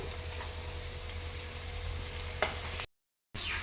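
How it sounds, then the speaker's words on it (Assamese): Chicken curry with carrot stirred in a pan, a soft sizzle under a few scraping spoon strokes, close and low, with a sharp clack partway through and a brief silent gap near the end. "এনেদৰে লৰাই দি দিলোঁ তলপৰ কৰি"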